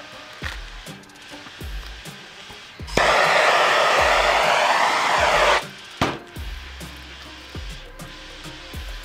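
Heat gun warming vinyl wrap on a wheelchair: a loud, steady blowing roar lasting about three seconds, with scattered knocks and handling noises before and after it.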